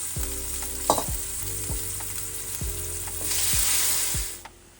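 Cabbage sauce with sliced tomatoes, habanero and romaine peppers cooks in a pot, with a steady sizzle, a hiss that swells briefly, and several soft knocks from a spoon against the pot, close by and with no talk.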